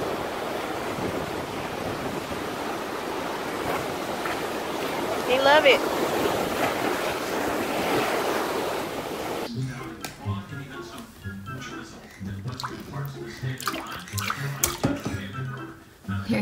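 Surf washes and rushes continuously at close range, then cuts to quieter, choppier water sounds with a voice speaking briefly.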